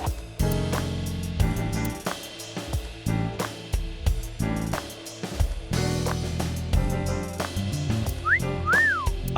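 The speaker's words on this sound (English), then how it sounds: "I thought I told you to stop with the wolf whistles." A wolf whistle sounds in the video game AI: The Somnium Files, a short rising-and-falling whistle near the end, heard over loud, busy background music.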